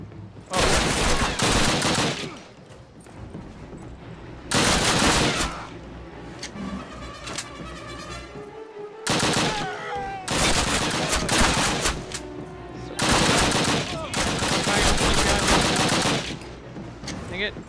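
Repeated bursts of automatic and single gunfire in a Call of Duty firefight, loud and close, in several long volleys separated by brief lulls, with faint voices now and then.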